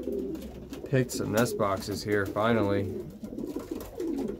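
Pigeons coo in a loft with nest boxes, soft throaty calls repeating under and between a man's nearby speech.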